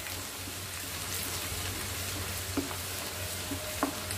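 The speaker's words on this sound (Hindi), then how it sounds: "जब तक हमारा लहसुन और अदरक दोनों लाइट ब्राउन ना हो जाए, तब तक हमें इसे फ्राई करना है" Chopped garlic and ginger fry in hot oil until light brown for a dhaba-style chicken starter, giving a steady, even hiss with a couple of faint clinks near the end.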